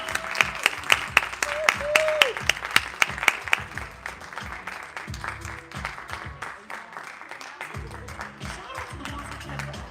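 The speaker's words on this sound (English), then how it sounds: "Clap it up for Megan, y'all." A live audience at a poetry feature applauds for Megan, a dense, steady burst of clapping that loudens early and then thins and fades, with a few voices and cheers mixed in.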